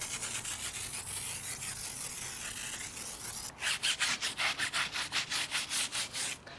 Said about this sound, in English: Look at now when I scrub my tires, how my foam stays white.